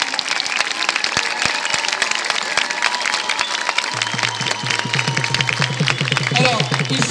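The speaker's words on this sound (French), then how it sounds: "après un tonnerre d'applaudissements" A crowd at a Paris Gilets jaunes rally supporting Palestine claps continuously, a loud dense patter throughout, joined about halfway by a low rhythmic pulse under the clapping.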